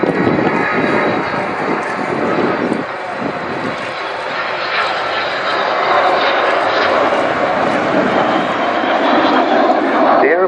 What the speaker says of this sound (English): So Vulcan coming back in towards us.